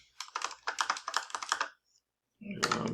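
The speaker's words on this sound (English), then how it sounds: "we're going to go ahead and put in the text, and then we're going to type in" Rapid clicking of computer keyboard keys as text is typed, a quick irregular burst of keystrokes that stops briefly, then a short rustling or click follows.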